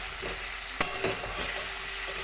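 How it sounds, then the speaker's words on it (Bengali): Cauliflower florets fry with salt and turmeric in a pan, a steady close sizzle with a couple of soft stirring scrapes, no voices. "দিয়ে একটু ভালো করে ফুলকপিগুলোকে একটু ভেজে নেব"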